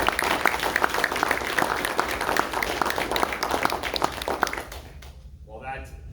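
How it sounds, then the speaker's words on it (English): An audience claps steadily at a military winging ceremony, a dense, sustained round of applause that fades out near the end as a voice begins over a microphone. "So I think they would deserve a round of applause."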